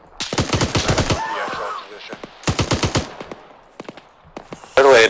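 Automatic gunfire in Arma 3, rapid tight bursts of loud rounds in two clusters, then scattered single shots and a final sharp burst, with some voice chatter in between.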